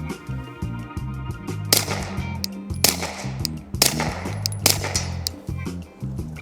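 A PSA Dagger pistol fires four sharp, loud shots at uneven intervals at a range, with a low engine-like drone continuing between them.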